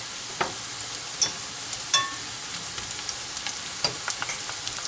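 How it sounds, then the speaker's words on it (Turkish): Chicken meatballs fry in a pan of oil, a constant sizzle broken by a few sharp pops and crackles. "hazırlamış olduğumuz köftelerimizi tavama 3-4 yemek kaşığı yağ koydum. Kızartmaya başladım."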